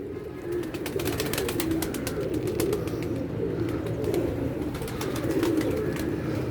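A flock of pigeons coos in a dense, unbroken murmur, punctuated by scattered bright chirps from other birds, fairly close and without speech.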